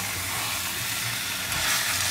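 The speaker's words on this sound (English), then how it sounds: "we're going to mix the chicken till it mixes together with the onions and all the spices" Chicken sizzles in a pan with onions and spices while being stirred, a steady close hiss of frying with soft scraping beneath it and no voices.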